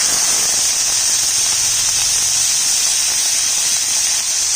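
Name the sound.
onion paste sizzling in hot oil with spices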